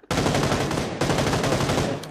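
Automatic gunfire from PUBG Lite team deathmatch play, loud and continuous: a rapid rattling burst that breaks briefly near the middle and then resumes, filling the whole stretch with no talking over it.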